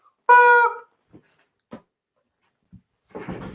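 A chicken lets out one loud, harmonic squawk, followed by a few faint scattered clucks and a burst of rustling noise near the end; no talking.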